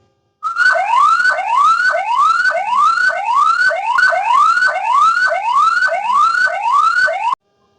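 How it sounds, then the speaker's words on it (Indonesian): An ambulance siren sounds up close and loud in a fast repeating rising whoop, about a dozen quick sweeps in a row, starting and stopping abruptly with no talk. "jika ada ambulan yang bersuara"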